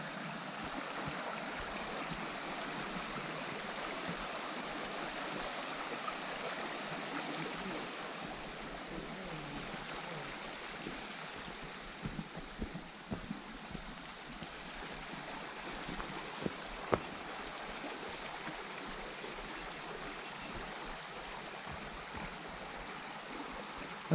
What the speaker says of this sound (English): Sounds like a creek.